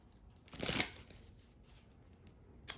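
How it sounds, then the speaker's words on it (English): Tarot cards are shuffled by hand in one brisk, close riffling burst, followed by a quiet pause and a short second rustle at the end. "even me shuffling"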